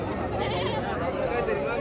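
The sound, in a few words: goats bleating at a market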